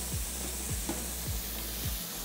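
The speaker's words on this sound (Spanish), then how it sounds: "A estos frijoles tiernos que se están cocinando le vamos a agregar el estragón" Tender beans simmer in a pot, making a low, steady bubbling sizzle with a few soft periodic thumps, and no one talks.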